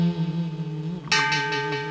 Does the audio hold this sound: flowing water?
no